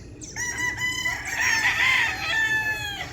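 A rooster crows once, a loud, drawn-out call close by, with faint farmyard noise underneath; a breeder's gamefowl.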